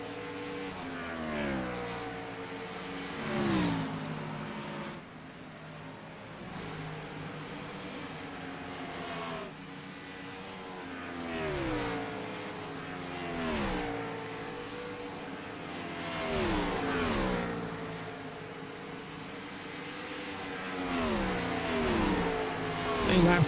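Gen 4 Series race cars lap Dover, their engines rising and falling in repeated pitch sweeps as cars pass, while a commentator talks over the racing.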